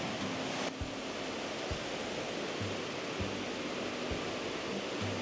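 A small waterfall in Ecuador pours in a steady, broadband rush, a continuous hiss of falling water with no pauses and a few faint low thumps underneath.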